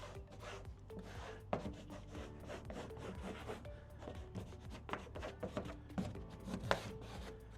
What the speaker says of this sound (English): I'm being very quick with my squeegeeing